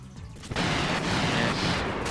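An attack on a missile unit in Front Mission 3 lets loose a sudden loud burst of gunfire and explosions that starts after a short quiet lead-in, then holds as a dense, continuous barrage with a few sharper blasts.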